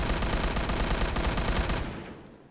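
M16 rifle fire in the game Oranje 44, a fast sustained burst of close, loud shots that cuts off abruptly and leaves a short fading tail.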